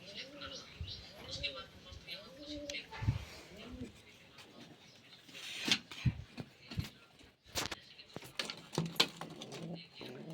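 Pigeons cooing close by, a female among them, repeated soft throaty coos in a rhythmic series, followed by scattered rustling, pattering and clicks from the birds as they move.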